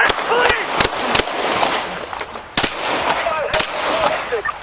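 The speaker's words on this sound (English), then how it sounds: "The squad port echoed with gunfire as officers returned fire." Police officers exchange gunfire in a parking area during a shootout, captured on bodycam: several sharp, loud shots in an irregular burst over noisy, chaotic background with voices.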